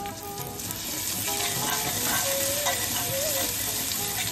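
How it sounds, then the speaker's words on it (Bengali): Ginger sautéing in hot oil in a pan gives a loud, continuous sizzle with faint stirring scrapes, close and steady throughout, with no voices. "আদাটা খুব ভালোভাবে কষানো হয়ে গেছে।"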